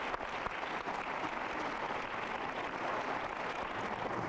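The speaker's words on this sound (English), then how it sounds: "you probably deserve another round of applause" Conference audience applause for a panel at a women in public finance meeting, a faint, distant, even wash of clapping that continues without pause.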